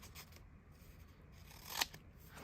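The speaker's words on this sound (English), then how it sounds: "So I'm going to cut myself a little flap here. And then I'm going to cut another one like this." Scissors snip through paper to cut a small flap, giving faint close crisp cuts with one sharper snip near the end.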